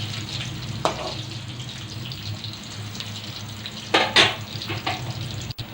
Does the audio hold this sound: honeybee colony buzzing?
no